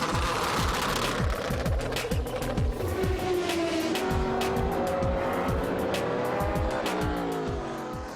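An Audi R8 Le Mans prototype race car screams past at Sebring, loud engine revving through rapid gear shifts and rising pitch, close and continuous for several seconds.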